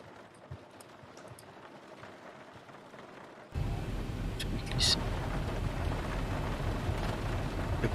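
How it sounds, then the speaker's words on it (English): Rain hitting the windscreen of an airliner cockpit in the X-Plane 12 flight simulator during a large-cell thunderstorm, with the sim's Zibo mod 737 tuned rain sound. A quiet start gives way to a loud, steady wash of rain that holds to the end. "He wants me to test the rain on the windscreen."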